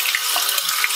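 A phalaenopsis orchid is rinsed directly under a running kitchen tap, giving a steady, close, loud rush of water splashing without any talking.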